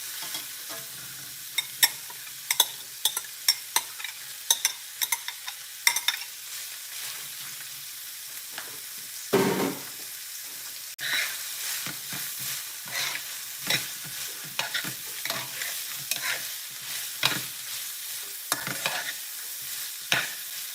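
Carrots and onions stir-fried over high heat, a constant sizzle broken by irregular scraping clacks of a utensil turning the pan, with a brief louder burst midway.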